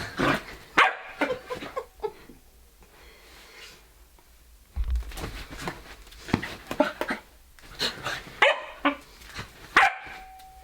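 An energetic dog barks in several sharp bursts close by during a morning outing, with quiet background between yelps and a short tone near the end.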